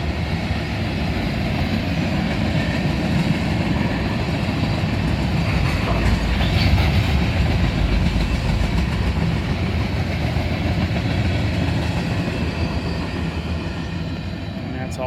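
A westbound mixed freight train with gondola cars rolls past steadily at close range, a continuous loud rumble with faint clickety-clack from the wheels, holding level for the whole stretch.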